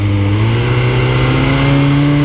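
A 2021 sport motorcycle, a GSX-R1000R or ZX-10R, holds near 5,000 RPM at the drag strip before launch, a loud close engine drone with steady harmonics rising slightly in pitch.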